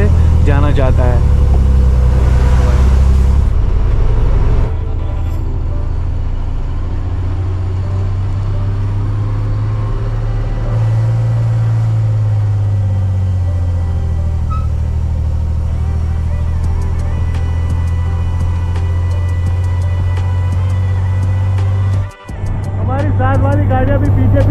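A truck climbing a mountain ghat road near Guwahati, its engine droning loud and close with a deep steady hum that shifts pitch as it works, and someone talks over the engine throughout.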